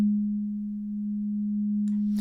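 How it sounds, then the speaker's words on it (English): A plain sine-wave synth bass note held steadily at a low register in Renoise, a pure continuous tone lasting about two seconds before a brief burst of noise cuts it off. "Right here we got a sine wave, just a basic sine wave."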